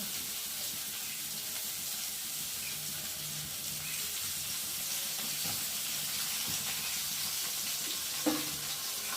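Pointed gourd frying in a pan with a small amount of oil, a constant close hiss of sizzling with faint scrapes and a single sharper knock near the end.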